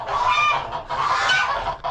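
Geese honking loudly nearby, a few overlapping nasal calls in quick succession, with no other sounds.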